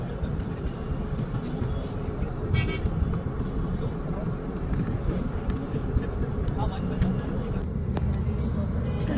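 Dense city traffic in Nagpur, a constant roadway rumble of engines with a short car horn toot and passing vehicles, heard from close by at the roadside.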